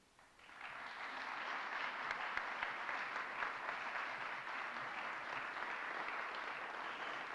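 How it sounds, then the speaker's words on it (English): An audience applauds after a speech at a school's opening ceremony and anniversary celebration, the clapping rising quickly and continuing as a steady, even wash of sound. "Give another round of applause"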